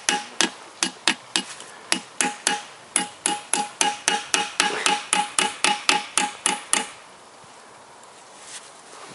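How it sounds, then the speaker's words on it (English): Crankshaft bearings are hammered into a Toyota VVT-i engine block, producing about twenty sharp metallic strikes in a steady, fairly quick rhythm, close and loud, before stopping into quiet. "I recommend that we hammer that in all first in all of these 4 places in here."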